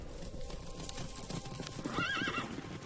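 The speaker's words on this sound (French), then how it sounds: "À la moindre alerte, ils partent au galop." Circus horses moving with steady clip-clop hoofbeats, joined around the midpoint by a clear, wavering whinny, heard fairly close amid continuous background noise with no talk.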